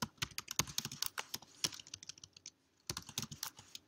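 Quick, close clicks of keys tapped on a computer keyboard, an uneven typing rhythm that pauses briefly and then resumes, quiet with no talking.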